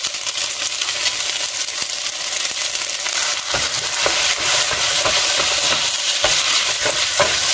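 A spoon works thick pesto sauce through pasta, giving loud, continuous close scraping and squelching with a frying-like hiss and repeated clinks against the pot.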